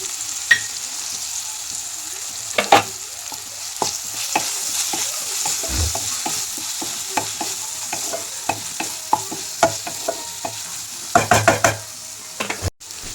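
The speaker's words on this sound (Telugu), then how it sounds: "ఇప్పుడు నేను టర్మరిక్ పౌడర్ వేస్తున్నాను" Turmeric powder is stirred into a hot tempering in a pan. A steady sizzle of frying oil runs under repeated scrapes and clinks of a spoon against the metal, with louder knocks near the end.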